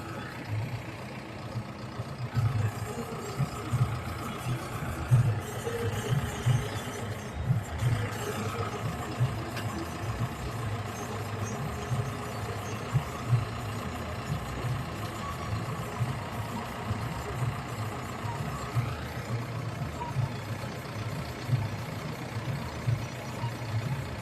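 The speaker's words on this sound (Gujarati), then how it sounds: "હર્ષદભાઈ એમ કે ટ્રેક્ટર આડું થઈ જશે એમ" A tractor engine idles at a village work site alongside a JCB machine, a steady low rumble holding throughout with small fluctuations and occasional faint knocks, no talk over it.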